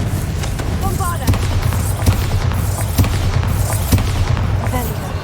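Spell explosions from Bombarda and related curses in Hogwarts Legacy go off as a series of loud booms roughly once a second. They sound over a rumbling backdrop, with a voice calling out between the blasts.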